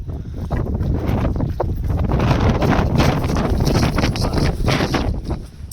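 Strong monsoon wind on Girnar mountain buffets the microphone in a steady, loud roar with gusty rumbling throughout and no speech.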